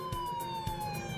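A faint siren wails with a slowly falling tone over low background rumble, as if heard from a distance.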